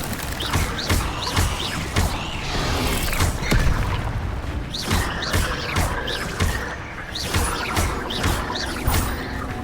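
Incendio fire spell cast again and again in Hogwarts Legacy, a loud run of booming, crackling bursts and thuds layered over a constant, dense game soundscape.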